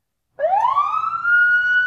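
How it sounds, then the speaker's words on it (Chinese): A police siren starts abruptly and wails upward into a loud, steady high tone, close by, with no voices. "一时间，警笛划破长空，几辆警车呼啸着停在了一家高档别墅面前"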